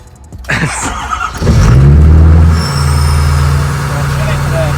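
An aluminum-body Ford Super Duty truck with air ride starts up: a short crank and a loud engine catch that flares into a rev, then settles to a steady idle, with people talking nearby.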